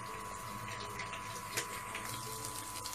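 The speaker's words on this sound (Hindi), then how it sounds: "ये देखिए अब इसमें आप पानी डालकर 5 से 10 मिनट के लिए इस तरह रख दीजिए पानी में।" Water is poured over soaking tamarind in a kitchen for Hyderabadi mutton dalcha, a faint, steady trickling stream heard quietly and alone, without speech.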